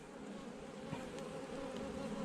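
Honey bees buzz in a steady low drone around an open hive of capped worker brood during an inspection, close and continuous with no talk.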